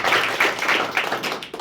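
Students and teachers at a coaching class clap for tenth-grade exam results, a brief dense burst of hand claps from a small group indoors, fairly close and steady throughout.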